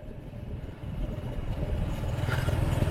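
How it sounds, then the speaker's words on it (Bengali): Motorbike riding along a road through forest, a steady low engine rumble with rattling and wind noise that grows gradually louder and rougher, no voices. "আমি তাও বাইক থামাচ্ছি না"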